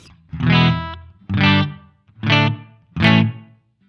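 Four strummed electric guitar chords through a Nux Verb Core Deluxe reverb pedal on its room setting, knobs at 12 o'clock, ring out one after another, each with a short roomy tail of reverb before the next.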